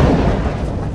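A deep rumble of thunder booms through a storm in a film soundtrack, a heavy, low roll that starts loud and slowly fades over about a second.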